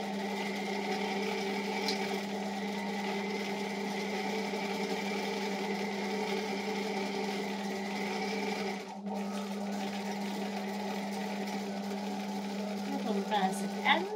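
A sewing machine stitches fabric tight against piping cord while framing up a slate frame for embroidery, running steadily with a close mechanical whir, a brief stop partway through, then resuming.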